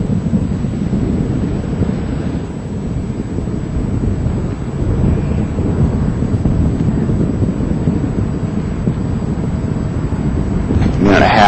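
Space Shuttle Discovery on the STS-116 launch climbs away, a continuous heavy low rumbling roar that stays steady and distant, buffeted by wind noise on the microphone, with no clear talk.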